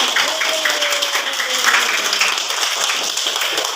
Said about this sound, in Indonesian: Pintar, tepuk tangan untuk anak-anak semua.